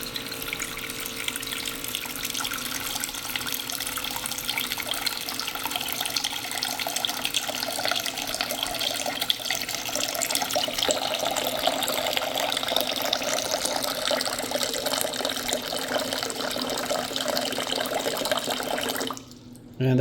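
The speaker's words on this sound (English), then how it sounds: "very handy to pump water out of a water can" An electric drinking-water pump pours water from a water can into a larger bowl, a steady close trickle and splash running nearly twenty seconds before cutting off abruptly as the pump stops automatically.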